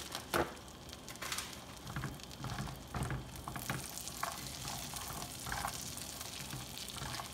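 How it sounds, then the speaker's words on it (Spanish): Walnuts toasting lightly in a pan with bacon fat and a touch of butter, giving a soft, steady sizzle and patter broken by small scraping stirs, close and fairly quiet. "Vamos a darle una leve tostadita a esta nuez."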